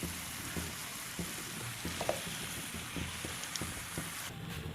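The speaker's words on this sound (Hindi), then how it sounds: "ये देखें अच्छी तरह से मैं मिक्स कर रही हूँ" Food mixture sizzling in a pan while being stirred for an iftar meal, a continuous soft frying hiss with faint scraping and clinking of the spoon, quiet and steady throughout, no voices.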